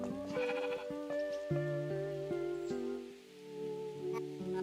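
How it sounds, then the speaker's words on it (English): Sheep bleat in a video game, several calls in quick succession over tonal game music and a soft rain-like patter, fairly close and clear with no talking. "Hey Carl, I finished marking the sheep."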